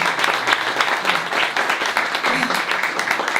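Close, lively applause from an audience at a literary event in Montréal honoring a staff member, with distinct individual claps in an uneven, continuous patter and brief murmurs underneath.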